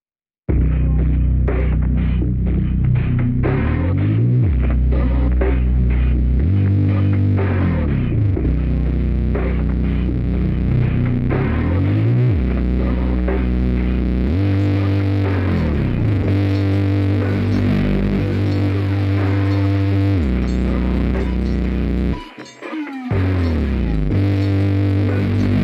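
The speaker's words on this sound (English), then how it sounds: "together, the drum loops and sub bass sound like this." Drum loops from the Splice Wonder Girl pack layered with a deep sub bass in a trap beat intro: heavy booming bass notes sliding between pitches under dense, driving percussion, loud and continuous with a brief dropout near the end.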